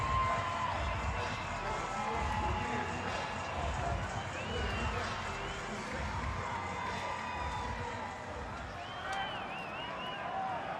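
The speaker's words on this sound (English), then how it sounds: "Crowd starting to get into it here on this Tuesday night." Crowd noise at a Tuesday-night baseball game in a stadium, a dense, steady roar of voices with scattered whistles and shouts, fairly loud and continuous throughout the clip.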